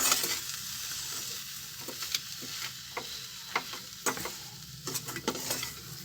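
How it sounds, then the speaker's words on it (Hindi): Moong dal halva being roasted in a pan, stirred so that sugar melts into it, gives a steady sizzle with repeated scraping strokes and clinks of the spoon, close and fairly loud. "पहले इसको भूनेंगे चीनी मेल्ट होने तक"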